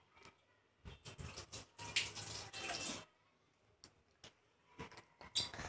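Cold water from a tap splashes and gushes in uneven bursts, some loud and some brief, with short quiet gaps between them as the flow is used for rinsing.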